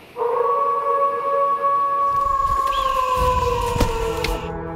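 Wolves on a Vancouver beach give a long, steady, sustained howl with overlapping voices, loud and close, continuing through the whole stretch without talk.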